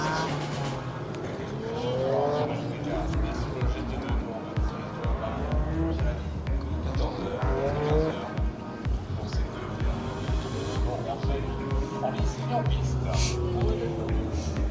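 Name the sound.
Maserati race car at GT World Challenge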